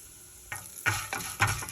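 Chana dal, two dried red chillies and asafoetida fry in hot oil, giving a soft sizzle broken by several sharp scraping stirs of a spoon in the pan.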